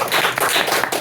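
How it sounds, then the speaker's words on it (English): Brief, dense clapping from an audience at a live literary reading in a bar, steady and fairly close throughout the short second-long snippet. "a round of applause for Jacob."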